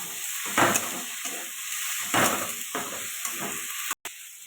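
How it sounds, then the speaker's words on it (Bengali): Lentils frying with chopped raw onion and green chili in a pan, a steady sizzle broken by repeated scraping stirs in loose rhythm, close and moderately loud, with a brief dropout near the end. "কাঁচা পেঁয়াজ কুচানো দিয়ে দেবো এটা ভালো করে কষিয়ে নেব"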